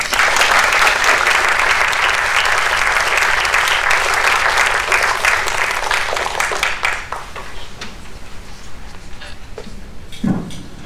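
A lecture audience applauds to welcome Ari Shavit, steady dense clapping filling the room for about seven seconds before thinning into scattered claps and faint room noise.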